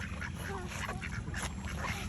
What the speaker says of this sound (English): Say I'm feeding the ducks.